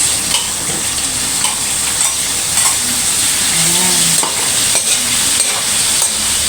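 Meat fries loudly in hot oil in a pan for pancit, a dense, continuous sizzle close to the listener with faint stirring scrapes mixed in.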